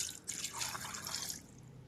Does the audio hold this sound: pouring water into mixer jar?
yes